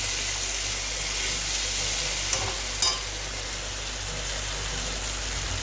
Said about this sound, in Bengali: আমার মোচা ভাজা হয়ে গেছে,